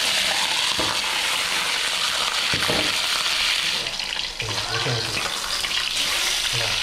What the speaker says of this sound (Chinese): 放进这个鱼，给它煎一会儿